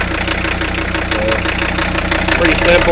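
The diesel engine of a 1984 Audi 4000 quattro idles with a loud, steady clattering rattle, heard up close while someone talks briefly over it.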